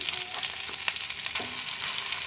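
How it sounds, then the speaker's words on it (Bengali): Ginger and cumin fry in oil in a wok while being stirred, a continuous crackling sizzle broken by scraping spatula strokes and small pops, close and steady without voices. "আমি আদাটা আর জিরেটা একটু নেড়ে নিলাম"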